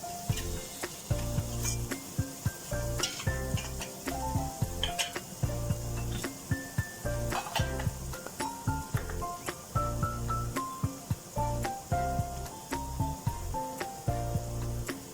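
Salt and spices are stirred into tomato paste sizzling in a pan for Hakkari-style sour meatballs, a close steady sizzle broken by frequent rhythmic scrapes and clinks of a utensil against the pan.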